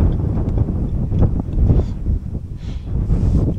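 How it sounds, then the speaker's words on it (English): Gusty wind buffets the microphone on a very windy paddling outing on the water, a steady low rumble with louder surges throughout and no talking. "So it's a bit windy today."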